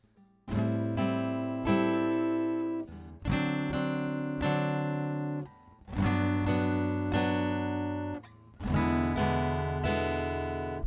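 An acoustic guitar strums chords in four short repeated phrases with a syncopated, swung feel, each phrase ringing out before a brief pause.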